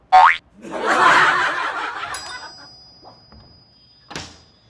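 A door being opened in a Hyderabadi comedy skit: a sharp springy twang, then a long rattling, scraping clatter that fades, with a couple of faint knocks and a final short thud.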